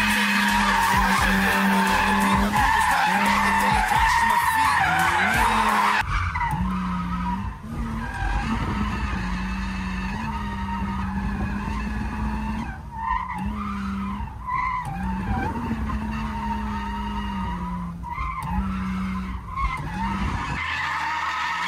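A car, an older BMW, drifting sideways with tires skidding and squealing over a loud engine, the skids repeating and shifting in pitch, sustained and fairly close.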